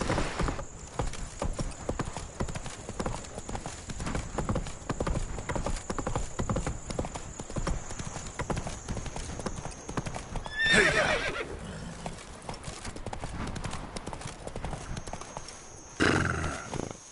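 Roach the horse gallops in The Witcher 3: Blood and Wine with a steady rapid clip-clop of hooves, then neighs loudly partway through and again near the end.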